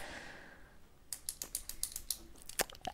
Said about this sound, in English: Why are you clicking the pen?